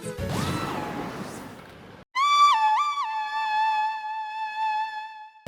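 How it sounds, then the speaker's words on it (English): A crash is followed by a clear, melodic whistle from the video game Tears of the Kingdom that warbles up and down before holding a steady tone, sounding synthesized and loud. "The whistle sounds very similar to a whistle Link can be heard doing in Twilight Princess"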